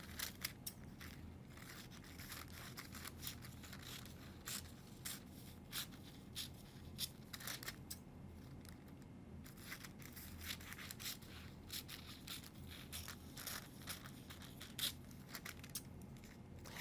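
Scissors snip paper streamers at a craft table, a fast run of faint, crisp cuts and rustles repeating closely throughout against a quiet background.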